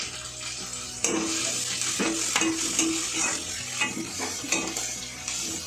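Cashews, raisins, coriander and curry leaves fry in a pan for rava kichadi. A close, steady sizzle runs throughout, broken by sharp spoon scrapes and clinks against the pan at irregular intervals.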